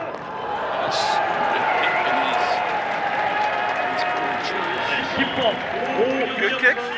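A home crowd in a stadium main stand cheers and claps after Korea's successful penalty kick in a rugby match against Japan, a broad roar heard at a distance with some voices over it.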